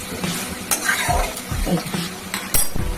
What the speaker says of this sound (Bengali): এবার গরম জল ঢেলে দিচ্ছি